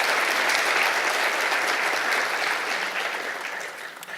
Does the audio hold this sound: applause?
yes